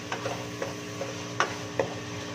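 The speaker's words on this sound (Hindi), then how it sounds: "इस तरीके से आपने मसाले को भूनना है।" Masala with tomatoes and onions fries in a pan for achari chicken, a low steady sizzle with a few soft spatula scrapes and taps.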